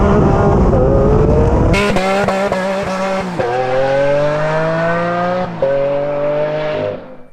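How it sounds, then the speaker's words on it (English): A Lamborghini Aventador S Roadster revs hard under launch control, then dumps the clutch into an all-wheel burnout. Loud, close engine roar climbs in pitch through quick gear-like steps, with tyre squeal, before fading at the end. "it will dump the clutch, spinning off all 4 wheels and launching you with a great burnout."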